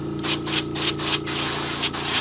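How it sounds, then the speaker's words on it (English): Airbrush spraying light gold paint in short repeated bursts of airy hiss, loud and close, each burst lasting a fraction of a second with brief pauses between. "Now I'll get the airbrush ready. I'll put some gold on first."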